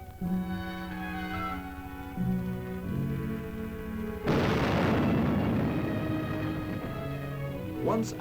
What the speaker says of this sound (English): Dynamite will now be used to blast away the bridge and reveal the size of the treacherous crevasse.